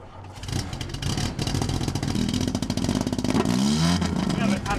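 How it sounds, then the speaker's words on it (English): LeMons endurance race car with an added muffler revving hard through its exhaust, a loud rising and falling engine roar up close with people talking over it. "Our car was really loud, so we put a muffler on it."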